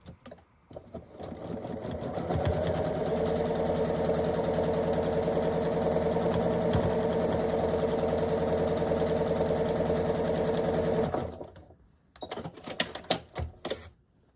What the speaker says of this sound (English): So here I'm sewing unit B to the left side of the main block